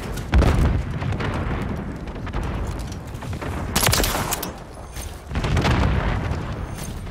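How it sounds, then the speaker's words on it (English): A stun grenade goes off amid a shooter video game firefight, with heavy booms and rattling gunfire in several loud bursts, including a sharp blast near the middle and a louder stretch toward the end. "Stun grenade out!"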